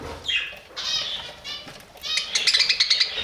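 Budgerigars chirp and chatter in a budgie room, bursts of high twittering calls rising and falling close by, with a flurry of sharper chirps toward the end.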